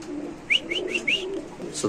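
Domestic pigeons offered for sale give a few soft, short coos spaced through a quiet moment, close by, with faint background voices.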